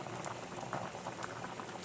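Chicken tinola soup bubbles and gurgles steadily in a pot at a rolling boil, close by and fairly quiet, with no one speaking.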